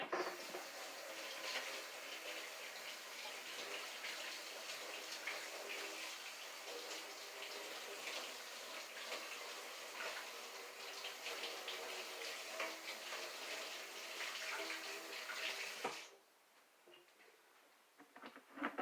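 Kitchen tap runs steadily for about sixteen seconds during a quick rinse while cooking crockpot chili, a continuous close splashing hiss that cuts off abruptly near the end, followed by quiet room tone.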